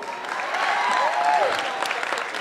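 Steady audience applause at a teachers' union 100th anniversary event, dense clapping from a crowd with a faint sustained tone and scattered voices beneath.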